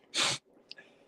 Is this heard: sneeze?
yes